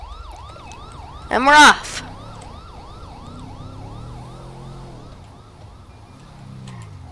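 A wailing police-style siren sweeps up and down in a steady repeating cycle on a golf cart patrol vehicle, loud and continuous over engine rumble, with a brief burst of a short voice near the start.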